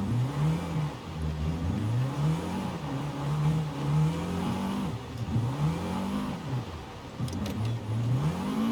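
A car engine in Forza Horizon 5 revs up and down repeatedly while drifting on tires with poor grip, loud and close, rising and falling in long sweeps.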